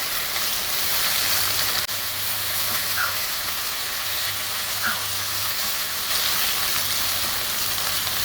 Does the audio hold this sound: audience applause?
no